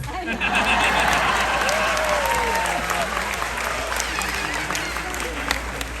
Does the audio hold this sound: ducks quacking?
no